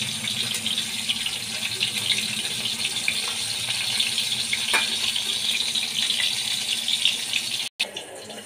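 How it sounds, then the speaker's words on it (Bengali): Fish coated in salt and turmeric frying in mustard oil, giving a steady, even hiss and sizzle from close by that carries on without a break and has no talking over it. "মাছগুলো আমি ভাজা বসিয়ে দিয়েছি।"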